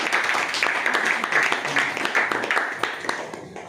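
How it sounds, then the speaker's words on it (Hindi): Audience applause at a Modicare business meeting in Hisar, moderate steady clapping with some voices mixed in, tapering slightly toward the end. "दोनों मैडम के लिए और सर के लिए जोरदार तालियां"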